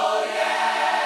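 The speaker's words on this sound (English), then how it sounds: "we could use gospel vocal effects to make it sound a little more interesting" A brief, sustained gospel vocal effect from Logic, a rich choir-like tone held steadily for about a second with no pauses.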